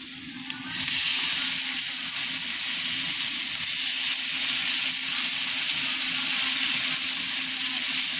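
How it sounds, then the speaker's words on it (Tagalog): Bean sprouts sautéed in a pan, a steady loud sizzle that rises just after the start and holds evenly throughout, with no voices. "magigisa tayo ng togi"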